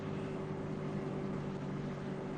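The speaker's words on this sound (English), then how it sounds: "My car is so loud with the windows down, the exhaust, and everything else." Steady, loud in-cabin road and engine roar from a car driving with the windows down and exhaust droning, a constant low hum and wind rush with no pauses and no talk.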